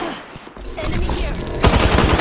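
Rapid bursts of gunfire from Apex Legends weapons, loud and close, with a heavier barrage near the end and no talking.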